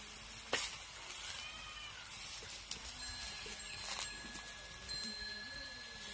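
Vegetable mutkule made with fanda greens fry in hot oil as they are flipped, a steady soft sizzle broken by occasional scraping clicks and a few faint whistling tones.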